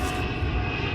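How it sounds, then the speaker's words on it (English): Airliner landing at London Heathrow at night, a steady, loud broadband engine roar with deep rumble, continuous and unbroken throughout, no voices over it. "Just landed London Heathrow"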